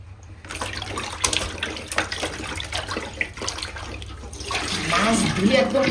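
Tap water runs steadily over pieces of cut rohu fish being rinsed clean in a kitchen sink, a continuous close splashing wash that swells louder toward the end, with a voice talking underneath.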